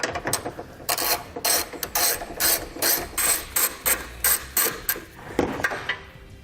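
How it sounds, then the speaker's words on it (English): A 10mm socket ratchet clicks in quick rhythmic bursts, loosening the nut and bolt that hold a vehicle's washer bottle on the driver's side, close and clear with nothing else over it. "Take a 10mm socket, driver's side. We need to loosen the hardware holding on our bottle, our washer bottle."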